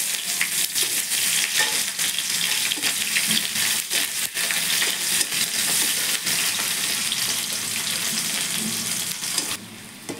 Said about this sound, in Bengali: পেঁয়াজটা ভেজে নিচ্ছি।